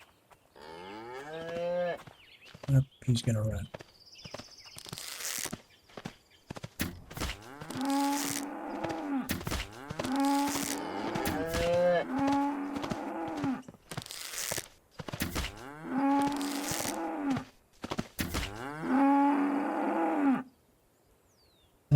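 Repeated loud, drawn-out cow moos from a video game, several calls in a row with short gaps, close and prominent, with someone briefly talking early on.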